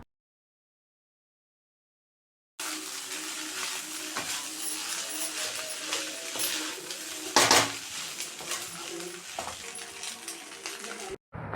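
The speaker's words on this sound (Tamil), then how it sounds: "ஸோ இந்த வெஜிடபிள்ஸ், மசாலா, சாஸ் எல்லாமே சாதத்து கூட மிக்ஸ் ஆகுற மாதிரி 1 டைம் நல்லா கிளறி விட்டுக்கலாம்" Fried rice with gobi, vegetables, masala and soy sauce is stirred in a pan. After a silent start, a spoon clatters and scrapes against metal in an irregular rhythm over a steady soft sizzle, with one sharper knock partway through.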